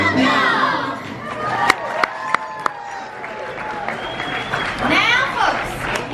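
Audience at a Walt Disney World dinner show cheers and claps, a dense crowd roar with whoops and shouts rising and falling, several sharp claps standing out, under a lively mixed crowd.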